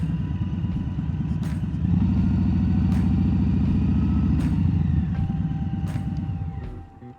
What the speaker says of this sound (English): A little bit of intake snarl when you blip the gas on the downshifts